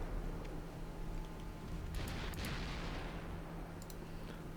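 Distant naval gunfire from battleships in Ultimate Admiral Dreadnoughts, a few muffled booms and sharp cracks over a constant low engine rumble, fairly faint and with no talk.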